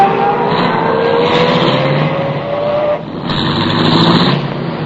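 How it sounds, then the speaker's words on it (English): A car engine runs and revs as the vehicle pulls away from a curb, a loud, close motor hum rising in pitch, with a brief dip and a hiss partway through. "I started the car, and the moment I pulled away from the curb"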